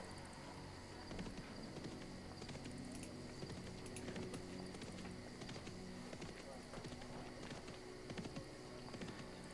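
Steady clip-clop of horse hooves trotting in the video game Dark Age of Camelot, beneath a dense bed of game music and ambience, with faint voices mixed in.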